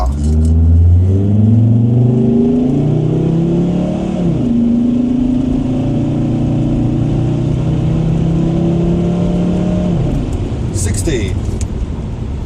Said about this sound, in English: let's do a quick full-blown 0 to 60 test